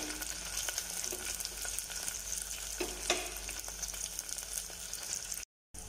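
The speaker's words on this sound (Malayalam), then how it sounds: "ഇഞ്ചി വെളുത്തുള്ളി ചതച്ചത് ചേർത്ത് കൊടുക്കാം." Crushed ginger and garlic fry in hot coconut oil for a Kerala-style crab curry, giving a steady, quiet sizzle with light stirring clicks, broken by a brief silence near the end.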